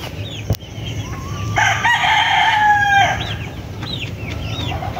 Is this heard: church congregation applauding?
no